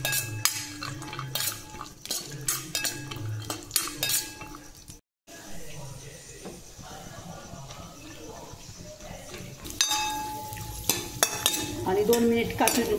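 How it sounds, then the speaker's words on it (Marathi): Cashew pieces fry in oil in a pan, with a soft hiss of frying under repeated sharp clinks and scrapes of a metal spoon against the pan. "मी आता हे तेलामध्ये छान फ्राय करून घेते"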